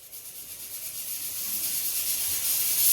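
Steam hisses steadily from a pressure cooker whistle on a high gas flame while Latur-style Nilanga rice cooks, the sharp release growing gradually louder with no other sounds.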